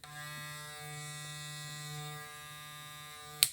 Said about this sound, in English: the STYLECRAFT Mythic is a quieter clipper